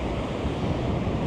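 Pacific Ocean surf rolls onto a beach near Astoria, Oregon, a continuous loud roar of breaking waves mixed with gusty wind buffeting the microphone.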